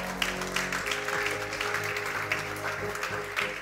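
A church congregation applauds the Lord in a steady, moderately loud patter of clapping that runs throughout, with a faint voice in the background.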